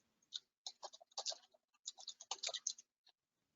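Rapid bursts of typing on a computer keyboard during a live scrapbooking session, close and crisp, in uneven clusters of keystrokes with short pauses, no talking.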